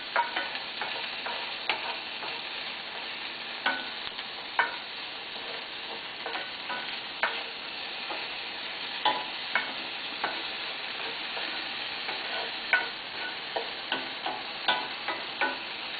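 Food frying in a pan on medium heat until golden brown, a steady hiss of sizzling with frequent light clicks and scraping stirs, close and without talk.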